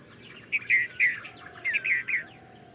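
Bright bird calls from a dawn chorus ring out in two short clusters of quick chirps, fairly close, with quieter birdsong faintly behind in a calm morning setting.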